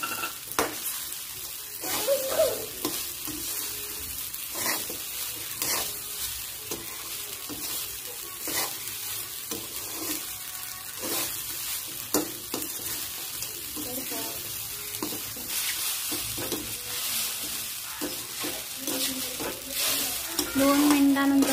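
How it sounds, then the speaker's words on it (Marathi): Sabudana khichdi for a fasting meal is stirred constantly in a pan over high flame, with a bright continuous sizzle and repeated scraping strokes of the spoon in a fairly steady rhythm. "आता हाय फ्लेमवर याला सतत 2 मिनिट हलत राहायचे"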